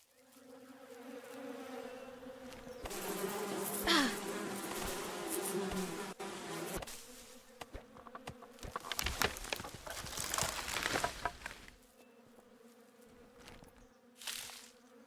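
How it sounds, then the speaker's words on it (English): Bees buzz steadily in the Western survival video game Above Snakes, a continuous insect drone that swells and fades with crackly rustling mixed in, heard alone without talk. "There's some bees."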